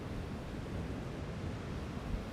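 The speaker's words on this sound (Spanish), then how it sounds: "el río Maule, que en su desembocadura personifica una lucha constante que tiene contra el mar y que en consecuencia produce una sonoridad significativa" Surf where the Maule river mouth meets the sea at Constitución, a steady, loud, broadband roar of waves and rushing water with no distinct breaks.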